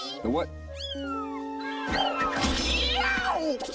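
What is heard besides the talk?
kitten meowing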